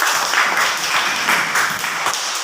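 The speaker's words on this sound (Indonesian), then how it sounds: "Tepuk tangan." Classroom of students clapping together after a pupil's presentation on butterfly metamorphosis, a steady dense patter of hands lasting a couple of seconds and fading slightly at the end, no talking.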